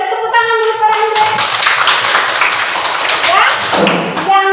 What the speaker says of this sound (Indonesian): Ya, beri tepuk tangan dulu para Andre.